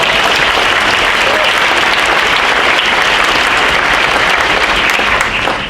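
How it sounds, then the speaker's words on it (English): A loud, dense round of applause from an audience at an honors night ceremony for students, steady clapping throughout with no talk over it. "let's give them collectively a round of applause."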